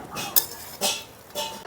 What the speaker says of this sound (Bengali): আর সুজির সঙ্গে বাদামটা ভালো করে মিশিয়ে নিচ্ছি।